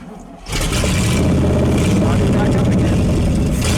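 A barn-find 1979 Chevrolet Camaro engine, burning off oil and with a gas leak, catches after a brief crank and settles into a loud, steady rumbling run close by, with a voice speaking over it.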